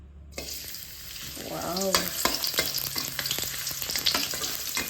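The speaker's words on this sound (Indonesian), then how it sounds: "Ini minyaknya sudah panas, waktunya kita tumis bumbunya." Spice paste hits hot oil and sizzles loudly in a pan, a crackling frying hiss with scraping stirring strokes, close up, after a short exclamation from a voice.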